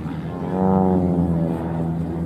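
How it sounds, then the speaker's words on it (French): An aerobatic propeller airplane engine drones with a steady harmonic buzz that swells in loudness partway through, then holds. "Écoutez bien le moteur, je vous laisse écouter."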